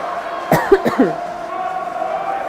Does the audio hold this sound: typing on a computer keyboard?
no